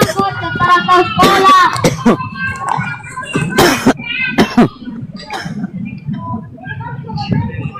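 A few sharp coughs burst out between stretches of talking, close to the microphone.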